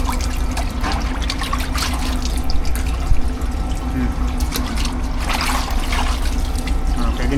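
Water poured for a final rinse on a ship's stanchion post during a make-over, a steady trickling pour with a constant low hum of shipboard noise behind it.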